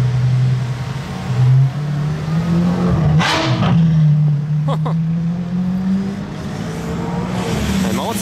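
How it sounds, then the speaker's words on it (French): Ferrari F12 accelerating on a street, its engine note rising and falling in pitch as it revs, loud and fairly close, with a brief sharper burst midway and background traffic noise throughout. "Cette F12, je l'ai vue tout à l'heure, elle fait pas mal de bruit, je crois."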